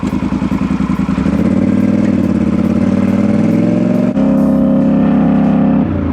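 A Polaris Sportsman 850 Highlifter ATV on 32-inch Assassinator tires being ridden, its engine a loud, close, steady drone that climbs in pitch as it revs, with a brief dip before it picks up again.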